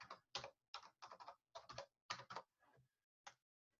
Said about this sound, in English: I keep typing and it's not going on there